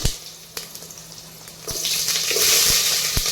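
Green chillies drop into hot oil in a pan with black pepper and cloves for chicken dum biryani, setting off a rising hiss that swells into a steady close sizzle after a few soft taps and clicks.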